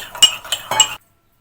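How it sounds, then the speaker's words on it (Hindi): A spoon stirs thick sugar into lukewarm milk in a bowl, giving several light metallic clinks against the side over about a second before the sound stops. "ये नीम गर्म दूध है, इसमें इसको मिक्स कर लेते हैं।"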